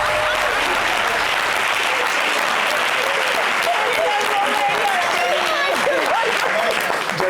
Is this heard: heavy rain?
no